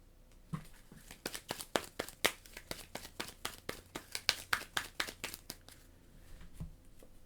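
Astro Knights board game cards being shuffled by hand: a run of quick, crisp riffling clicks and papery crinkles, close and fairly quiet, with no talking.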